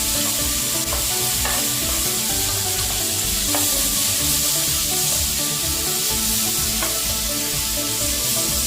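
Chopped tomatoes sauté in a pan for tomato rice, giving a steady loud sizzle and crackle with occasional stirring scrapes throughout.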